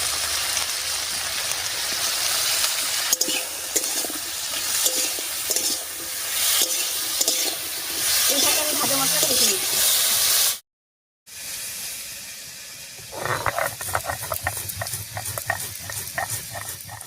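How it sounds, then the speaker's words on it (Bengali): Yardlong beans and potatoes frying in a pan are stirred with steady scraping and a soft continuous sizzle, close up. After a brief cut the stirring returns with sharper rhythmic clatter. "এদিকে বরবটি আলুগুলো ভাজা হয়ে গেছে"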